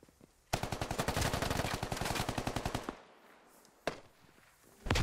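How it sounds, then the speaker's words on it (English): A long, fast burst of automatic rifle fire in the SquadOps shooter game rings out up close, then stops, followed by a couple of isolated sharp shots amid quieter background noise. "Joe Violence being shot from the staircase still"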